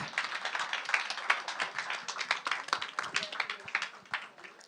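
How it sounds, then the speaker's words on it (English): Applause at a WPL Athens Summit 2024 session as a dignitary returns to her seat, a dense patter of many hands clapping steadily throughout, with some speech-like voices mixed in under it. "Please give her another round of applause as she takes her seat."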